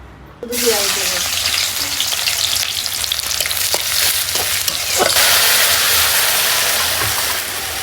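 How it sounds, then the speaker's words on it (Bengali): Lentils hit hot oil and fry with a sudden loud, close sizzle that keeps crackling steadily for several seconds, with occasional stirring clicks. "আমি এখন ডাল তেলে দেব"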